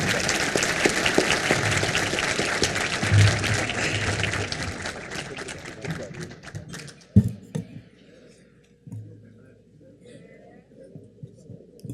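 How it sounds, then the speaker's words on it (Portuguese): A closing round of applause from the audience for two panel speakers at a government management conference, dense clapping that thins out and stops partway through, followed by quieter room sounds. "eu gostaria que todos encerrassem com uma grande salva de palmas aos 2 palestrantes"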